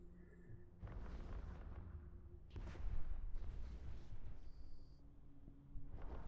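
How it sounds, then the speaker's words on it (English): Spaceship explosions in the space game EVE Online during a Blood Raiders combat mission, a series of deep rumbling booms and bursts layered over game audio, moderately loud with no talk. "Watch the beautiful explosion."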